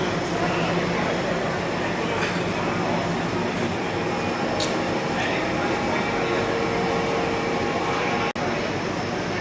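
A Sabarmati to Jodhpur passenger train with all-general coaches rolls along in a loud, constant rumble heard from inside, with wheel clatter and a brief sharp knock near the end.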